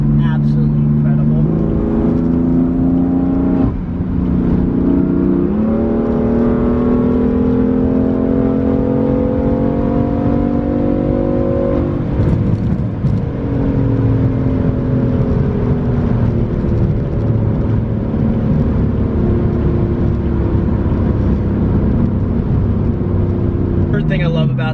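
BMW M3 engine revving and rising in pitch through several gear-like steps, loud and close with a sustained harmonic drone throughout.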